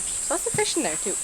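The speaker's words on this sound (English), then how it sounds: "those crickets are very loud" Loud crickets chirp at night beside a pond in Samburu, Kenya, a steady high-pitched drone running continuously under a person talking nearby.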